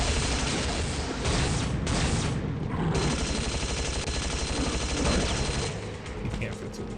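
Shock rifle firing in Unreal Gold, a dense, continuous run of loud energy-weapon blasts and impacts, close and busy, with a short lull near the middle before the barrage resumes.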